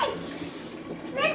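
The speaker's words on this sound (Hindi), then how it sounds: "नीचे पानी भरने के लिए। नीचे कनेक्शन वाला पानी" Tap water from a ground-floor connection runs steadily into a container with a broad, constant hiss, while voices chatter over it, a child's among them.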